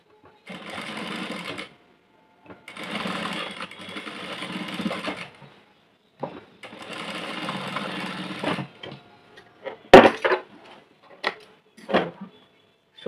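Sewing machine running in several short bursts of steady whirring stitches, stitching a half-inch shoulder seam, with pauses between runs and a few sharp clicks and taps of handling toward the end; quiet and close.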